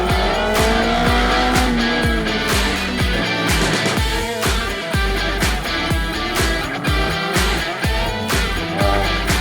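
Race cars power through a national slalom series event, engines revving up and down rapidly while tires squeal through the turns, close and loud without a break.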